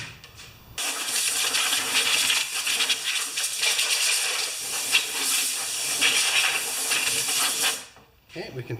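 Compressed air blasts steadily over Craftsman lawn mower parts during a repair. A loud, continuous hiss runs for about seven seconds, then stops, and a short burst of noise follows.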